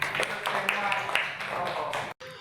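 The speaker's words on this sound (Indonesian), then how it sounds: "Ya, tepuk tangan." A classroom of students clapping together, a burst of quick hand claps with a few distinct sharp beats, fairly close, then stopping abruptly.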